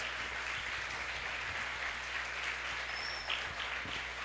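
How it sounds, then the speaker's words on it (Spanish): A church congregation applauding at a Christian conference service, a fairly faint, even wash of many clapping hands that holds steady throughout with no voices on top. "Bríndale un fuerte aplauso a Dios."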